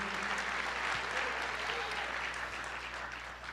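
A church congregation applauds steadily, a dense, continuous wash of many hands clapping at even loudness throughout, with a low hum underneath.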